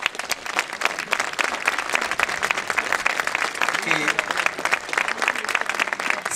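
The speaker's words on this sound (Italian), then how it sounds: "Vogliamo mandare un applauso ad Angelo Polito" Steady, dense applause from a crowd at an Italian mayoral candidates' debate in Forio, honoring a late associate, sustained throughout at a fairly loud, even level.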